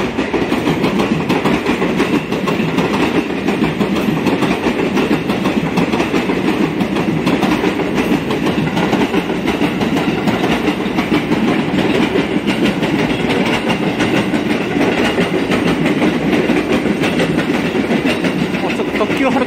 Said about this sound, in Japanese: 新快速長浜行きも来ました。